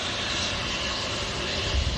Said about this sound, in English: So KLM to Amsterdam, Embraer E190.